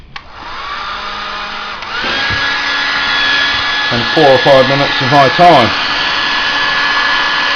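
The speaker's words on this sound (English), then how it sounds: "involves a hairdryer" A hair dryer blows with a steady whooshing hum throughout, heating field hockey goalkeeper kickers, while someone talks over it in the middle stretch.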